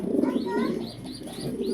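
A favourite breeder pigeon, a quality hen bird, coos softly in a few rolling, throaty phrases close by, with faint chirps and a low room murmur underneath.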